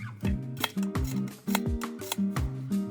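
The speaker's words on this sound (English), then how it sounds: "Before turning, trim all the corners to reduce bulk." Scissors snip fabric corners close up, a series of about eight crisp, evenly spaced cuts with a slight metallic ring, in a quiet room with no talking.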